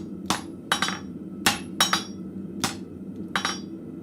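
A blacksmith hammers a piece of scrap metal on an anvil in a forge, with seven sharp ringing strikes, some of them in quick pairs, at an uneven pace and close by.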